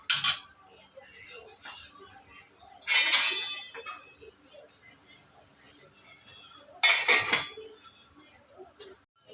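A lid goes onto a cooking pot of pechay and misua soup, producing two bright metallic clanks several seconds apart, with soft clinks and a quiet voice in between.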